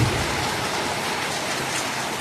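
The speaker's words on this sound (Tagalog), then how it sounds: "Wala pa namang hangin, pero ulan marami." Heavy, steady downpour from Super Typhoon Uwan, a dense continuous hiss of rain pounding surfaces close by, with little wind and no voices over it.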